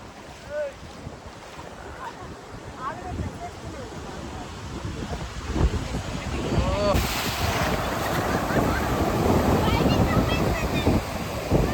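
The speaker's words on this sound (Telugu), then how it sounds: "అలలు అయితే చాలా డేంజర్ వస్తున్నాయి గాయస్" Broad, rushing surf noise swells and grows louder toward the end, mixed with wind buffeting the microphone and occasional faint voices.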